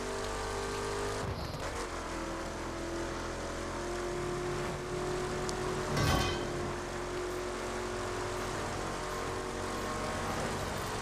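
A car engine drones steadily in The Crew racing game on PS4, a continuous mid-level hum with a brief louder swell of passing traffic around the middle, and no talking.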